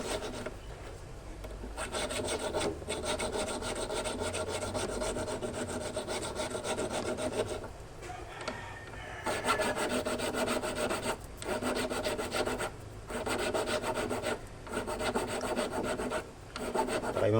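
A metal file rasps over a ring to smooth out hammer marks, steady back-and-forth strokes at close range with brief pauses between passes, fairly quiet and with no talking.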